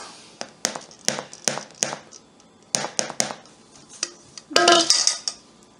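A baking pan filled with mandarin orange bread batter is tapped against a surface, giving about a dozen sharp metallic knocks in an uneven rhythm, close and fairly loud, with a brief clattering rattle near the end.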